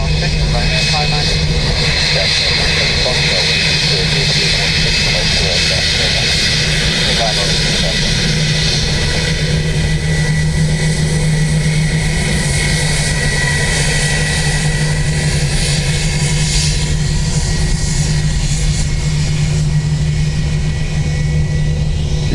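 An ATR turboprop airliner at Dublin Airport gives a loud, sustained propeller and engine drone, a steady roar with a constant low hum, while a person talks over it.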